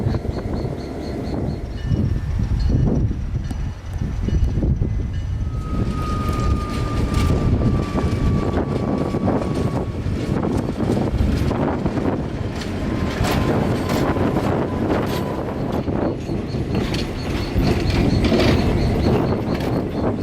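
A train leaving Willow Yard heading south rumbles steadily, with low broadband roar and faint tonal squeals drifting above, sustained throughout without voices.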